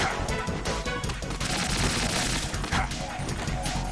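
Rapid gunfire in Metal Gear Solid 2, aimed at a light, crackles in quick repeated bursts alongside barking dogs and clattering impacts, loud and busy throughout with game noise layered over it.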